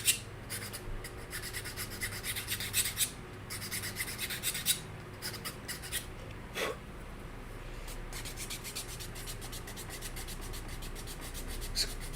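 Sanding a plastic part for a model ship of the Black Pearl, a close, continuous rasping rub with rhythmic strokes, briefly pausing and then resuming steadily.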